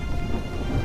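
Steady heavy rain with a low thunder rumble underneath in a cartoon storm scene, a continuous dense hiss filling the whole moment, no voices.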